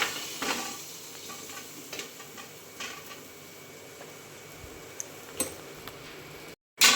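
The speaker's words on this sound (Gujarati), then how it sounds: "આ રીતે હવે આપણે એને બધી એકદમ મિક્સ કરી દેવાની છે અને સરસ મજાની શેકાઈ જાય ત્યાં સુધી હવે આપણે એને શેકી લેવાની છે." Dates and dry fruits stirred and roasting in ghee in a pan: a soft, steady sizzle with scattered scraping strokes of a spoon against the pan, ending in a brief cut-off and a final bump.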